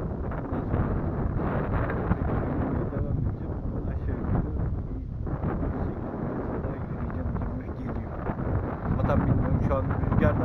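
Strong wind buffets a microphone outdoors in a forested area, a continuous loud rumbling roar that persists throughout and swamps everything else.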